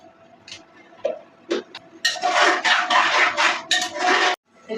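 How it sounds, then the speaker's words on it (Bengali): Boiled meat for haleem tipped from one vessel into a cooking pot, a few scattered metallic clinks followed by a dense burst of clattering and scraping against metal, then a sudden stop. "আমার মাংস সিদ্ধ হওয়ার পরে আমি পাতিলার মধ্যে ঢেলে নিলাম"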